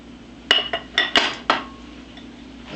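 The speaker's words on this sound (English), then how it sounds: "So we're going to get the dry back here and just start mixing it up." Wet and dry cornbread batter ingredients being mixed in a bowl, with several sharp utensil clinks and knocks against the bowl in the first half, then quieter scraping; no talking.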